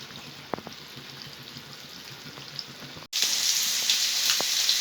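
Taki fish frying in hot oil in a pan, a steady close sizzle that briefly cuts out and then returns louder and fuller.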